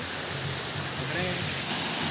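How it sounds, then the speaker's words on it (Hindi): A small waterfall spills into a pool as a constant broadband rush of falling water, even and steady throughout. "यहाँ पर एक छोटा सा वाटरफॉल पानी गिर रहा है"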